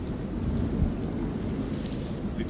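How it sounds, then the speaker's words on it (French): A thunderstorm in the video game Man of Medan gives a steady, dense roar of rain and low rumbling thunder with no one talking. "Demande combien de temps l'orage va encore durer."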